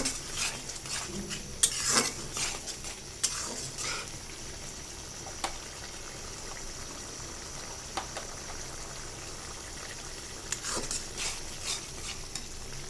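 Onion curry with fish being stirred and sautéed in a pan, a steady soft sizzle broken by scraping spatula strokes and occasional clinks against the pan, close and moderately quiet.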